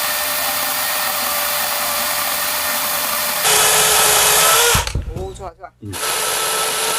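A DeWalt DCM575X2 cordless chainsaw cuts firewood, giving a steady high electric whine that rises sharply as the blade bites into the log. Brief rattling and clunks follow, and a voice speaks briefly.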